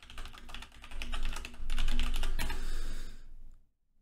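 Typing on a computer keyboard, a rapid run of close clicking keystrokes that builds into dense clatter, ending with a sharp key press and then silence.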